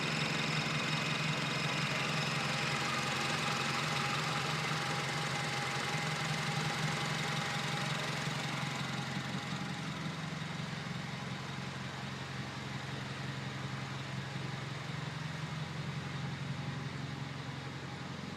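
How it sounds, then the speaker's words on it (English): A car engine with an R18 motor, a Skunk2 Megapower catback exhaust, a Weapon R header and a short ram intake holds a steady, loud, droning idle for the whole stretch, with no talk over it. "Just installed is a Skunk2 megapower Catback exhaust, very loud with the header."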